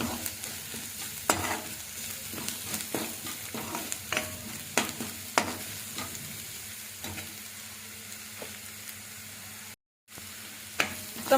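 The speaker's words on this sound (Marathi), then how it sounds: "आणि हे आता आपण मसाले परतून घेणार आहोत थोडे।" Spices with Kashmiri red chilli being sautéed in a pan, soft sizzling under intermittent scrapes and stirring taps from a spoon, fairly quiet and close.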